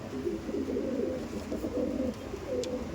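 Two female Giribaz pigeons coo in soft, low, rolling throaty calls that repeat continuously and sound close by, with faint background noise.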